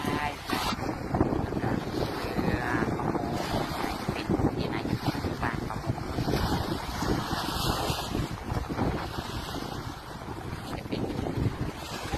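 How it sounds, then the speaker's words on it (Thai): Cool wind blowing outdoors by the water, a steady, broad rushing buffet against the microphone with low rumbling gusts, continuous and fairly close throughout. "ลมเย็นสบาย"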